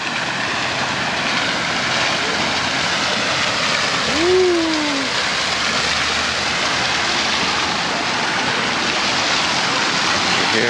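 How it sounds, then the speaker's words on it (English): Steady broadband rush of falling water from a waterfall at a resort in Nuevo Puerto Vallarta, continuous and fairly loud, with a brief whooshing tone passing around the middle. "Waterfall."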